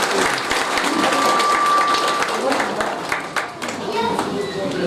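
An audience claps for guests at an event, a dense patter of applause under nearby talk and voices, steady for several seconds before thinning near the end.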